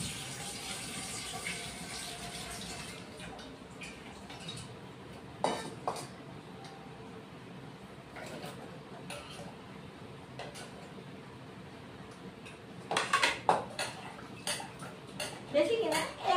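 Potatoes, long beans and pumpkin washed in a pot, with running and sloshing water, clinks of the pot and occasional louder splashes and clatters near the end, close by, while a person speaks over part of it.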